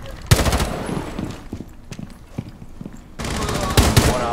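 Automatic gunfire shooting through a wall in Rainbow Six Siege, two loud rapid bursts at the start and end with scattered single shots and impacts between them.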